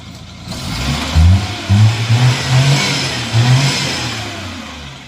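A petrol car engine starts on a single push of the self-starter, catches at once and runs with a few loud revving swells before settling into a steady idle, close by with no talk.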